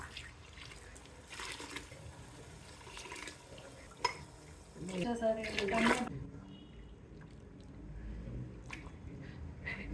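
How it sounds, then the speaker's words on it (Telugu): Coconut milk and water are poured into a pot for peas pulao, giving a gurgling, trickling pour in the middle of the stretch, with someone speaking over the quieter kitchen background. "ఆ కొబ్బరి పాలు ఒకటికి ఒకటిన్నర చొప్పున సగం కొబ్బరి పాలు సగం నీళ్లు పోసుకోండి"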